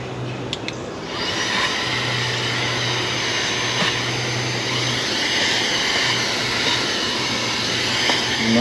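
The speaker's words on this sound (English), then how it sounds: "in case there's a ton of small hive beetles, I'm gonna vacuum as hard as I can go." A vacuum pulling small hive beetles out of a beehive roars in a loud, steady whine that starts abruptly and holds unbroken, a low hum running beneath the rushing air.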